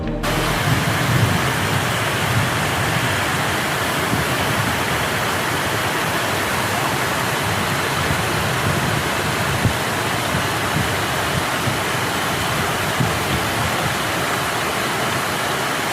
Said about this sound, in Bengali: মন্দিরের গা ঘেঁষেই দেবকুণ্ডের পবিত্র ঝর্ণার জল বয়ে চলেছে